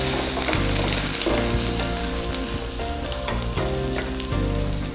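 Garlic and ginger fry in a pan for chicken in oyster sauce with cashew nuts, giving a loud, steady sizzle with faint stirring scrapes throughout and no talking.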